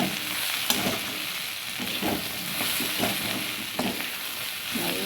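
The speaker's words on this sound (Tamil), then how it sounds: "நல்லா வதங்கி வருது எல்லாமே." Steady sizzling of onions frying in a pan, with intermittent scraping strokes of a spatula stirring; no voices.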